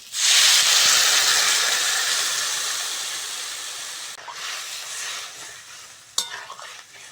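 Water splashes onto hot fried cauliflower and potatoes in a pan, setting off a loud, close burst of hissing steam that slowly fades, followed by a sharp clack near the end.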